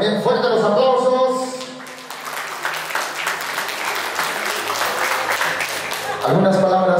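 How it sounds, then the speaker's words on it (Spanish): Loud applause from guests at an engagement party (pedida de mano), a steady wash of clapping that swells, with a voice speaking over the start and end. "Por favor, también fuerte los aplausos"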